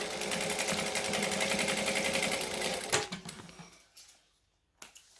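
A sewing machine runs fast and steady for about three seconds while stitching to reinforce a seam on a bag, close and clear, then slows with a few clunks and a final short burst.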